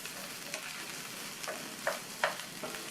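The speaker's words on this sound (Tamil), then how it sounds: "இந்த வாழைக்காயுமே எண்ணெயிலேயே நல்லா 2 நிமிஷத்துக்கு வதங்கணும்." Mashed raw banana sautéed in oil in a pan for a Tamil podimas dish, giving a soft steady sizzle broken by a few sharp scrapes and stirs of the spatula, close up and with no voices.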